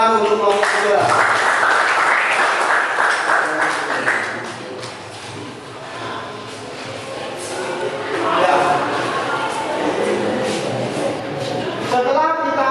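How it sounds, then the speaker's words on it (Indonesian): A physics class of student teacher trainees claps for a presenting group during a lab session, scattered hand claps running under ongoing talk and murmuring through the room. "Kita beri tepuk tangan untuk kelompok 3"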